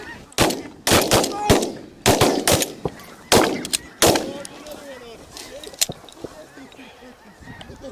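Gunshots ring out during a goose hunt, about eight sharp blasts fired in quick bursts over the first four seconds and then a few more spaced shots. Geese honk between and after the volleys, and voices are heard faintly.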